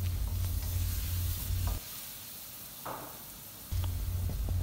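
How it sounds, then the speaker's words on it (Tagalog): Garlic, onion and ginger sauté in a pan for a fish sinigang, giving a steady close sizzle with stirring that drops away for about two seconds before resuming. "Magigisa po tayo ng bawang, sibuyas at luya para matanggal ang lansa ng ating isda."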